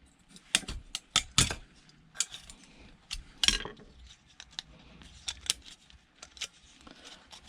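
Snipping and peeling aluminium off scrap metal with hand snips, a series of sharp metallic clicks and crinkling tears at irregular intervals, close and fairly quiet between bursts.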